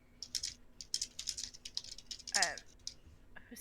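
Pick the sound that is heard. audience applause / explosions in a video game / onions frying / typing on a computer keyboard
typing on a computer keyboard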